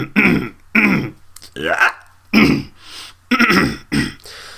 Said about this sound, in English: just trying to clear my throat